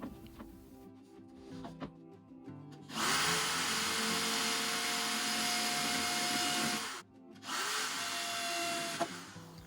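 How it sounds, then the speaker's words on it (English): A power drill pre-drills holes in a wall while a large shelving unit is built, whirring loudly in two sustained bursts of about four and two seconds separated by a brief pause, with quieter handling noises before. "I made sure to pre-drill the holes for where I was going to fix it into the wall"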